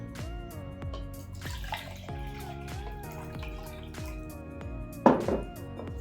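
Water pours into a small blender container, giving a run of irregular drips and splashes with a sharper splash near the end. It sounds close and moderately loud.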